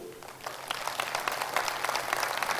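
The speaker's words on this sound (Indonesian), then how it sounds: "Tepuk tangan untuk para leader Riwe" An audience at a team leadership seminar applauds its leaders with dense, continuous clapping that swells slightly over a couple of seconds.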